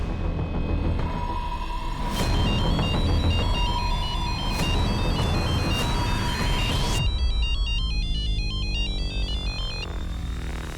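A telephone ringing with no answer, a repeating electronic ringtone melody of beeping tones that carries on steadily and alone, changing to a different ringing pattern near the end.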